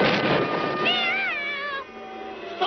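A cartoon cat yowls and meows in long, wavering cries as it attacks, loud and close, with a steady background hiss and no talking.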